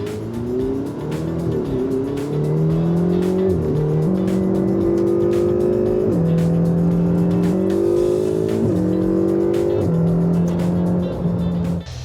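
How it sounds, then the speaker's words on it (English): A Ferrari 488 GTB on a hot lap at Sepang circuit, heard from inside the cabin: a loud, sustained engine roar climbing through the revs, dropping sharply at each upshift and rising again without a break. "So it looks like I'm going for another hot lap experience, and this time around in a Ferrari 488 over here."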